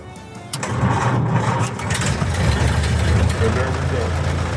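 A 1929 Ford engine cranks and catches into a loud, rough, rumbling idle close by, with someone talking over it.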